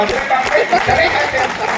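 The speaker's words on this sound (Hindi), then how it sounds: "ताली बजा दो" An audience at a Hindi stand-up comedy show breaks into applause, a dense, steady wash of clapping and crowd noise that fills the whole moment, with voices mixed in.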